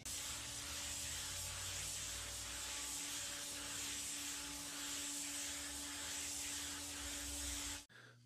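Iwata Kiwami4 spray gun laying automotive base coat over a blend area on a body repair, a steady close hiss of atomizing paint with faint rhythmic pulses, cut off abruptly near the end.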